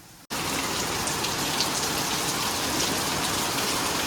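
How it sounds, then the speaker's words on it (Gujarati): Heavy rain pours steadily in a dense, continuous hiss after a brief silent moment at the start, loud and close throughout. "વરસાદ તો જો આવે છે, બહુ જ વરસાદ આવે."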